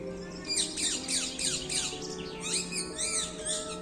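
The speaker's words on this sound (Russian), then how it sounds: "Такие птицы здесь странные." Many small birds chirp and squawk in quick, overlapping bursts around the ruined Heidelberg castle in Germany, a busy chorus running steadily from start to finish over a low background hum.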